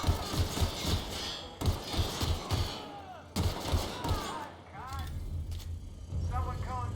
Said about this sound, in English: He's really shooting!